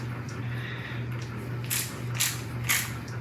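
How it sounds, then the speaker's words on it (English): A ratchet wrench tightens cab bolts on a Chevrolet Silverado quad cab truck, its pawl clicking in a continuous rapid run with a few louder strokes over a steady low hum. "Then tighten bolts 1 through 10 to 80."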